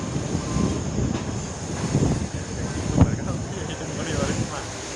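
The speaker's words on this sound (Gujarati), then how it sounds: "જો પાછી અહીંયા 3 નંબરના પ્લેટફોર્મ ઉપર ટ્રેન આવી પણ આપણી જવાનું ને એટલે માલગાડી આવી" A goods train rolls in beside platform 3 of a busy railway station, giving a steady rumble of wagons with a sharp clank near the middle, heard alongside station crowd noise and voices.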